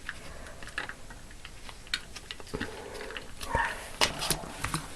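Keyboard typing clicks in a home craft room mixed with a pet dog's intermittent yelps and whimpers as it barks at passersby outside the window, the scattered sounds close and irregular with no talk.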